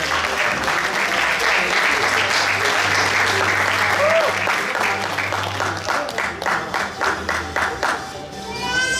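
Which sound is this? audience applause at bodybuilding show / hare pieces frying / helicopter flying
audience applause at bodybuilding show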